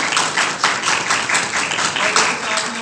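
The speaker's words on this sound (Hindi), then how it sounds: "सबसे पहले खुदा यीशु मसीह के लिए और पाक साहब के लिए जोरदार तालियां।" A church crowd at a Christian gospel gathering in Pakistan claps in a steady, rhythmic burst of applause, fairly loud and sustained.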